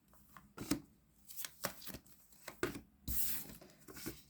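Tarot cards handled and drawn from a deck: a series of soft papery slides and flicks in uneven rhythm, ending in a longer brushing shuffle, close and quiet.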